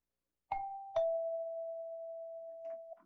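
A two-note ding-dong doorbell chimes clearly once, the second tone ringing out and fading slowly in an otherwise quiet room.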